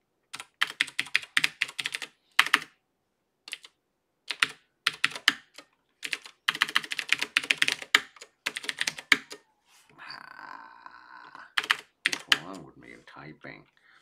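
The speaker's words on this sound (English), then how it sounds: "Typing." Rapid bursts of typing on a computer keyboard, close and crisp, with irregular clusters of keystrokes and short pauses, and a brief voice speaking near the end.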